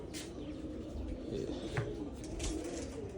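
Pigeons coo softly and repeatedly against a low background murmur, their calls close and gentle.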